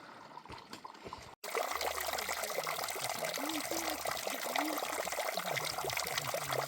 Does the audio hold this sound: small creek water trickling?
yes